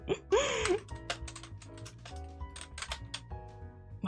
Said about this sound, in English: Why is my keyboard so loud even though I'm doing this?